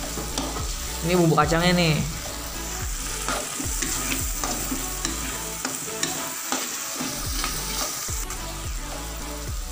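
Peanut sauce being stirred in a pan for Indonesian-style tteokbokki, with repeated scraping strokes and a soft background sizzle; a short spoken remark comes near the start, then stirring continues alone at moderate volume.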